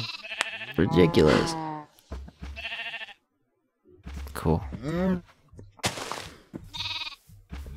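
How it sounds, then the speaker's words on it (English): Sheep bleating in the video game Minecraft, several short bleats in separate bursts, loud and close, with someone briefly talking between them. "Now we got 5 cows and 3 sheep in here"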